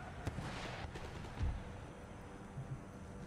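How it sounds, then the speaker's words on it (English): Artillery shells land in an Empire Total War battle, a few dull thuds and muffled booms scattered over a constant low rumble of battlefield noise, moderately distant. "Artillery shots landing in."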